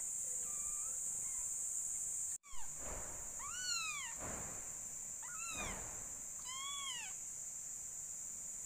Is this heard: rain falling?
no